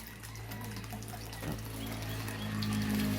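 Water flowing steadily through a homemade fish pond filtration system outdoors, a continuous rushing, trickling wash with a low hum underneath, fairly loud and unbroken, no speech.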